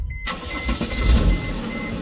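An isolator solenoid in a Leisure Travel Van clicks as the engine cranks and catches, followed by a steady close idle rumble with no talking.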